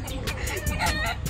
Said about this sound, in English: those two are roosters.